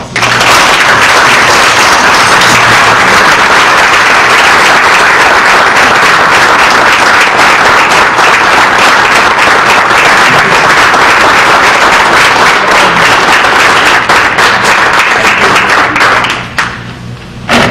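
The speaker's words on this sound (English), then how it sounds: "if everyone would give him a round of applause" Loud, sustained applause from a school board meeting audience for a high school diploma recipient, a thick roar of many clapping hands that keeps going before cutting off abruptly near the end.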